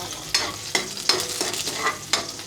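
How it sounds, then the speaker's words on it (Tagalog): Sardines sauté in a hot frying pan, giving a soft steady sizzle broken by a few sharp scraping stirs of a utensil at regular intervals, close and fairly quiet. "igisa ko lang po ito."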